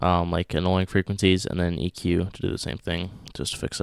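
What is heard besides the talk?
None of the usual background noises is heard.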